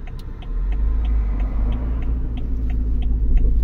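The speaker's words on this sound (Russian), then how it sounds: "Где-то слышится шум машины." A car passes along a village road, a steady low engine rumble growing slightly louder, with no talk over it.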